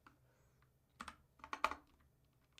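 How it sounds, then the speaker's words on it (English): Keys clatter on a Freewrite Hemingway Edition typewriter-style keyboard, a few quiet close clicks and short clustered taps spaced unevenly, alone in a hushed room. "let's go ahead and type some more"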